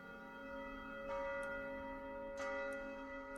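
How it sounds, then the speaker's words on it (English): A church-style bell tolls in a tabletop fantasy roleplaying game, its two soft strikes ringing out over a steady tonal hum with no talking. "you begin to hear a bell being tolled."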